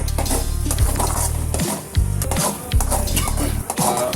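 Food frying in a pan while being stirred for a home-cooked dish, loud continuous sizzling broken by repeated scraping and clinking strokes of a utensil against the metal.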